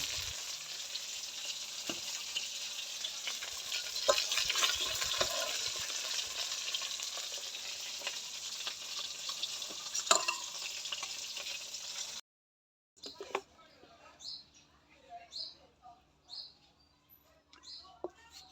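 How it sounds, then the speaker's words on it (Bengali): Cabbage, potato, eggplant and cauliflower fry in a little oil in a karai, giving a steady close sizzle that stops abruptly partway, followed by quieter scattered clinks and rustles. "কড়াতে একটু তেল দিয়ে দিলাম সবজিগুলো বাইজা নিব"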